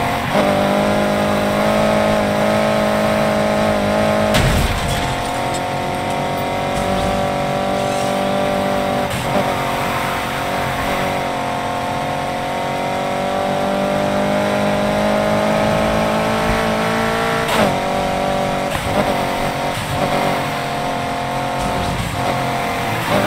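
A BMW M3 accelerates hard in a police chase, its engine note loud and sustained with a steady roar that rises and holds, broken by brief shifts or bumps, with no talking over it.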